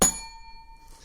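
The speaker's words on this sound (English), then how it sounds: "Get the bell. Get a bell." A small bell is struck once during a smart home podcast, a bright ding that rings on and slowly fades, clear and close with no talk.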